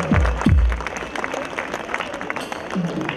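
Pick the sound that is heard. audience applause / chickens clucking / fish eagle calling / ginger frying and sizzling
audience applause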